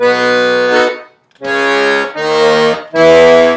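Left-hand accordion bass and chord buttons play a song's chord progression as four sustained, reedy chord swells with short gaps between them, loud and close with no talking.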